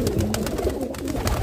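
Pigeons coo in low, soft throaty murmurs, several birds close by, with flutters and rustling mixed in.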